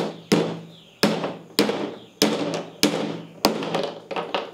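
A hammer drives a small drywall nail with six sharp, loud strikes at a steady rhythm of about one per second, each ringing briefly before the next, close up with no talking.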